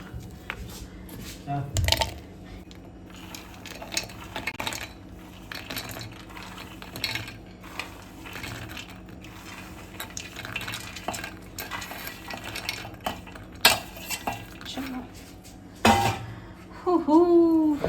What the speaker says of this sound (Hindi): और अब ये जो ड्राई फ्रूट्स हैं इनको भी मैं रोस्ट कर लेती हूँ